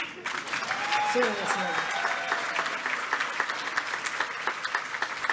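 Audience at a celebration gala breaks into a sustained round of applause, many hands clapping in a dense rattle that thins toward the end while a voice speaks briefly over it.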